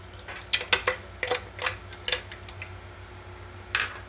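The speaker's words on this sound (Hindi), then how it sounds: "और थोड़े से हम यहाँ पर आइस क्यूब डालेंगे" Ice cubes dropped into a Roohafza and chocolate milkshake: a scattering of light clinks and taps, several in quick succession and then a pause before a last clink, fairly close and quiet, with no talking.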